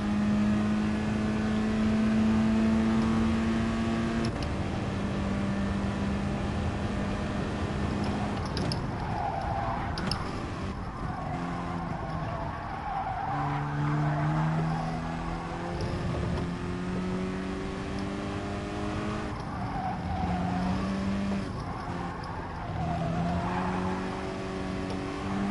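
A race car on soft tyres lapping in a racing video game, a sustained loud engine whine climbing and dropping through gear changes and braking, with occasional tyre squeal, steady and close throughout.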